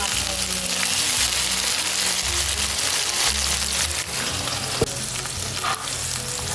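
Tomatoes going into a pan of frying chili and garlic, with a loud, steady sizzle, stirring scrapes throughout, and a clack of a utensil partway through.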